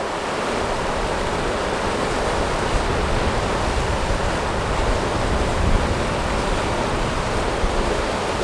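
A river flows past picnic tables in a steady, broad rush of water, loud and close, unchanging for the whole stretch with no voices.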